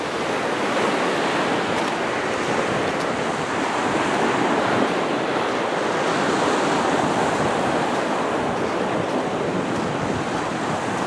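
Ocean surf rolls onto a long, empty East Coast beach in a continuous broad wash, loud and steady, with wind buffeting the microphone.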